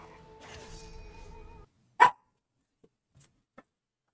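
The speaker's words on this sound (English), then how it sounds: "My dog wants out." A dog indoors gives one sharp, loud bark wanting to be let out, followed by a few faint small noises, after an opening stretch of low background sound.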